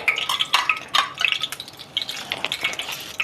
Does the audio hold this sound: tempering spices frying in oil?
yes